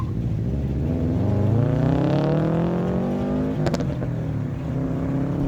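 A Toyota Camry and a 2012 Subaru drag race at Miramichi Dragway in a no-prep event, with a loud engine roar rising steadily in pitch through the gears, a brief crackle midway, then continuing strongly.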